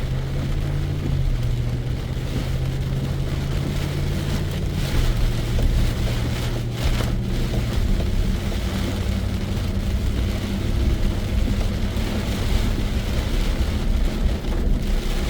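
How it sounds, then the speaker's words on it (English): Heavy rain from Tropical Storm Debbie pounding a moving vehicle, a dense, steady hiss over a low engine drone whose pitch drops as the vehicle slows, loud and continuous with no talk. "This is probably the hardest rain that I have seen all day long."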